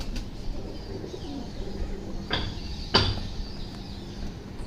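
Pigeons in a flying and breeder flock coo softly and low in the background, with a couple of sharp handling clicks standing out near the middle.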